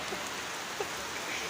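Steady rain falls and patters on surfaces close by, a constant dense hiss without pause.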